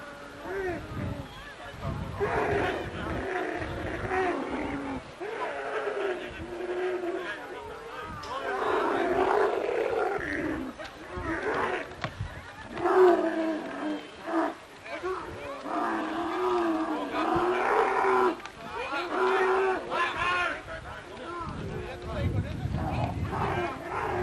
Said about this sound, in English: Camels don't sound very happy about the whole thing.